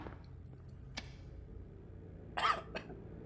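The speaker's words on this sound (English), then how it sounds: "Sorry that I'm coughing so much" A player coughs softly a couple of times during a Silent Hill speedrun on PS2, one brief cough early and a sharper double cough near the end, faint over quiet game ambience.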